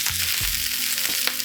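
Cabbage sizzles and chars in a hot pan, a loud continuous crackling fry with a few stirring scrapes, heard alone up close.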